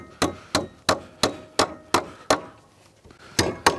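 Stiletto titanium hammer driving nails into wood siding straps, a steady series of sharp, close, ringing strikes about every third of a second, with a brief pause before two final blows.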